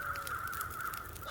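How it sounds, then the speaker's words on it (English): Crows cawing overhead in the snowy wilderness of the survival game The Long Dark, a continuous run of harsh caws layered over a steady wind-like ambience, fairly loud and close, with no talk. "The crows being noisy up above."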